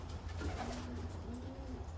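Young racing pigeons coo softly in a low, repeated pattern under a steady background hum, with a few quiet, drawn-out calls spread across two seconds.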